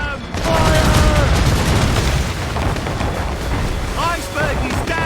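Ship cannons firing at an iceberg in Assassin's Creed Rogue, a dense rumbling barrage of booms over rushing sea noise, with shouted voices breaking through briefly.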